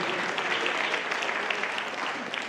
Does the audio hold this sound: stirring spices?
no